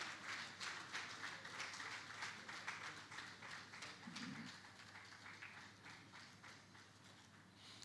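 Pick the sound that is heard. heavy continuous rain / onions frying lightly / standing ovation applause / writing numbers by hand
standing ovation applause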